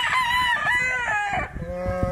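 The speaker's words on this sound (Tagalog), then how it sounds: "Gwapo pong manok, magagandang manok." A three-year-old Golden Boy gamefowl rooster crows loudly at close range, one long strained call, followed by short clucks at a gamefarm.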